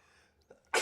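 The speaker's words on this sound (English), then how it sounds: "you're gonna make me sneeze" A short sneeze bursts out loudly at the end of a near-silent moment, preceded by a faint sharp intake of breath.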